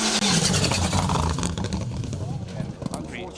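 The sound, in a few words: rally car driving an asphalt rally stage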